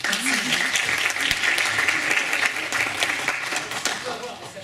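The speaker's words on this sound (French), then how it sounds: "Après chaque prestation, nous serons ravis d'accueillir vos applaudissements." An audience at a school eloquence contest gives steady, dense applause that holds evenly for several seconds before easing slightly, with a few voices mixed in.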